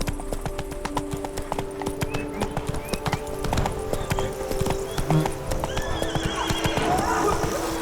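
Horse hooves clip-clopping at a gallop in The Witcher 3 video game, a steady rapid beat with occasional whinnies over game music and ambient effects.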